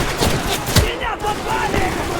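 Gunfire rattles in Easy Red 2, a World War II shooter set at a Stalingrad railway station square, with bursts of automatic fire and a heavy report over a shouting voice.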